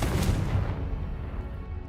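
Confringo spell blast in Hogwarts Legacy, a single deep booming burst that hits hard at the start and rumbles off over about two seconds, with no voices.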